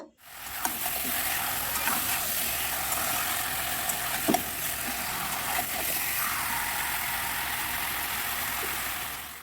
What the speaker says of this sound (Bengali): কড়াইতে সরষের তেল দিয়ে দিয়েছি, দিয়ে হচ্ছে আমি মাংসটা এর মধ্যে অ্যাড করে দিচ্ছি